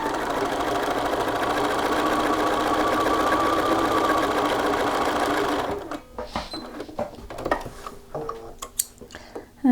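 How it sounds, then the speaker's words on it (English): A sewing machine stitches along shirt shoulder seams from yoke toward front, a loud steady close whirring run for several seconds that stops abruptly, followed by scattered clicks and handling noises. "now we just need to stitch along the shoulders"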